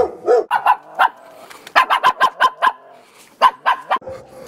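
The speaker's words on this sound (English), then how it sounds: "Customer's dog threatens me, although I'm not really too worried." A customer's dog barks behind a gate, loud and close, in fast bursts of sharp barks and yips with brief pauses. No voices are heard over the barking.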